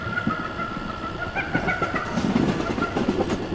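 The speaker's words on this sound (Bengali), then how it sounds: "ট্রেনে করে জঙ্গলের পাশ দিয়ে ছুটে চলেছি" Train rushing past a jungle as a radio drama sound effect, with a rolling rumble, rhythmic clickety-clack of wheels and a faint high whistle-like tone near the start.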